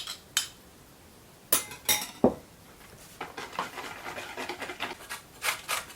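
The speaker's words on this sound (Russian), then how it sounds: "затем Маша добавляет желтки. Желтки 4 штучки. И дальше будет немножко перемешивать." Four egg yolks mixed into dissolved sugar in a bowl, with a few sharp clinks of a utensil against the bowl at first, then a run of quick, light stirring taps, close and without speech.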